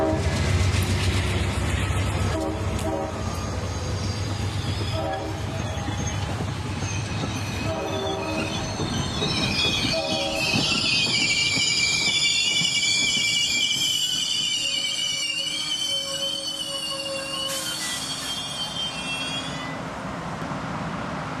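Amtrak 92, the Silver Star passenger train, passes at Palatka on the CSX Florida mainline: a loud, sustained roar of rolling cars with wheel squeal and horn blasts mid-pass, then easing off, no voices.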